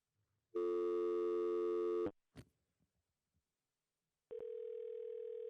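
Telephone line tones while dialing a caller into a meeting, a loud steady two-note dial tone lasting about a second and a half, a click and brief clatter, silence, then another sustained tone.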